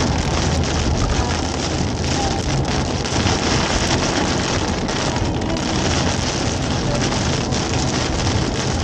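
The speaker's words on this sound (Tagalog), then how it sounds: "Hindi na mawala ulan, oh." Steady rain pours down on a road, a dense, unbroken hiss that stays constant throughout.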